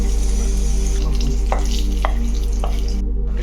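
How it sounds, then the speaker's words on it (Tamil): Cashews and raisins fry in ghee while being stirred, a steady loud sizzle with a few sharp scrapes and clicks of the spoon against the pan, close by and with no talking. "அதுக்கப்புறம் இந்த கிஸ்மிஸ் பழத்தையும் போட்டு இந்த மாதிரி கிண்டணும்"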